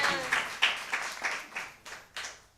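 A church congregation claps together in a slow, regular rhythm, about eight distinct claps, fairly close and moderately loud with no voice over them.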